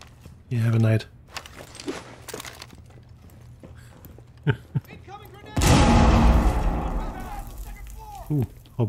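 A grenade is thrown in Rainbow Six Siege on the Skyscraper map in Training Grounds. After scattered footsteps and clicks, a sudden loud close explosion rumbles for a few seconds, with someone talking around it.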